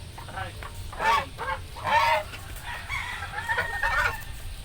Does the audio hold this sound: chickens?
yes